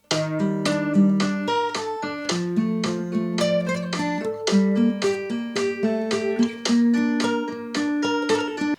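Guitar plays the full second verse of a song in a continuous flow of plucked notes over sustained low bass tones, close and clear, with no voices.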